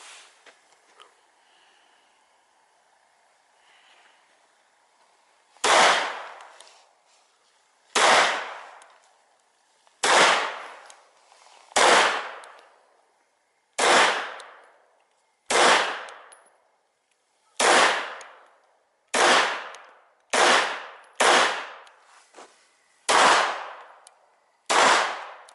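A Savage rifle fires a series of single sharp, loud cracks, each ringing out briefly, spaced a couple of seconds apart and quickening toward the end, with no talk between them.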